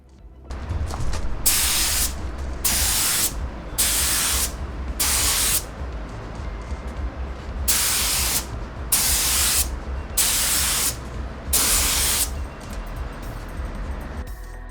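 An aerosol can sprays a second, heavier coat onto a restored car headlight in about eight bursts of close, loud hissing, each a second or so long with brief gaps between.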